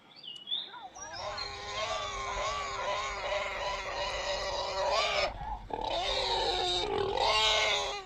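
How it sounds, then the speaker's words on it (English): A pig squeals loudly and continuously, a shrill, wavering scream sustained for several seconds with a brief break before resuming. "Let's pay attention to the pig."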